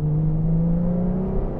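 A Ferrari 812 Competizione's naturally aspirated engine revs loudly and close, a steady tonal drone rising slightly in pitch over a brief burst.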